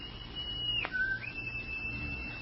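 A single sustained whistle used as a signal in a wartime jungle patrol setting, a steady high tone that dips sharply in a quick slide near the middle before leveling off again, heard alone over a low background rumble.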